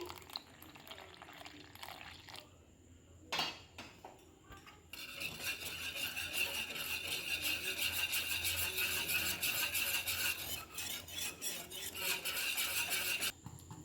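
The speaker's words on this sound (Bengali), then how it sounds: "আমি এখানে এবারে পাস্তার যে জলটা রেখেছিলাম সেটা অল্প করে দিয়ে দিচ্ছি" Reserved pasta water goes into a white sauce in a pan, giving a steady pouring and bubbling hiss that swells midway, with utensil clinks and stirring; no one speaks.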